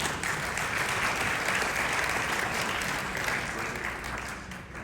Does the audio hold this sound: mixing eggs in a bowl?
no